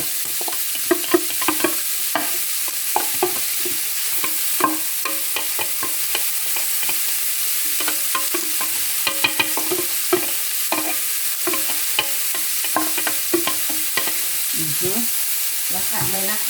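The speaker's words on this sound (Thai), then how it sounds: "หัวหอมใหญ่เหมือนกันนะ เราก็ผัด นะคะ ผัดเลย" Onion stir-fried with pork in a pan, a continuous close sizzle broken by frequent spatula scrapes and clicks against the pan, with a few brief voice sounds underneath.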